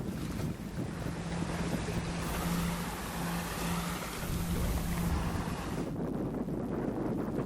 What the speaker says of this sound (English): This is the next day's sailing, fairly typical sailing, not much wind,